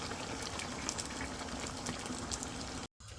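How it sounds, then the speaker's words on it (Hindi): Ground tomato is added to chicken gravy frying in a pan, and a loud, dense bubbling sizzle runs on close up with scattered pops, then cuts off briefly near the end. "और पिसे हुए टमाटर भी डाल देंगे।"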